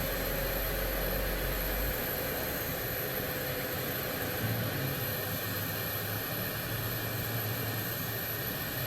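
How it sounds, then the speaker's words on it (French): Right jet engine of a Dassault Rafale spooling up in a flight simulator game, a steady whining roar that holds even and loud throughout, with a low rumble building partway in and no speech. "Allez, on peut lancer le moteur droit."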